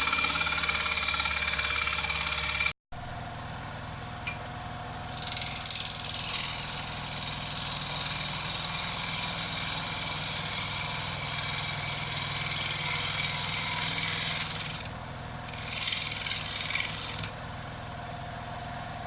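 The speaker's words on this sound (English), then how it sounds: "So I'm just doing some finishing cuts now." A wood lathe makes finishing cuts on a cracked bowl, a steady motor hum broken by a brief gap, with hissing bursts of the tool shaving wood rising and falling, loud and close.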